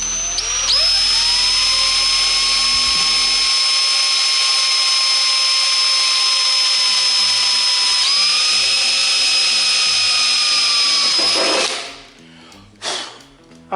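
Step drill boring into a painted Type R Civic body panel to enlarge a hole for a rear wing, a loud close high whine that holds steady for about eleven seconds, dips in pitch partway, then stops abruptly.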